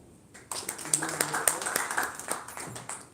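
An audience at a film festival award ceremony breaks into a burst of clapping, with dense handclaps that rise sharply, hold steady for a few seconds, then start to thin out.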